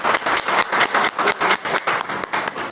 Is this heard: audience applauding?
yes